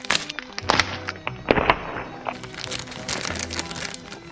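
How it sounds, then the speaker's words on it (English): Plastic packaging being opened and crinkled, with soft thunks and rustles as items are handled and unwrapped close to the microphone, in a quiet ASMR-style setting. "Unpackaging ASMR."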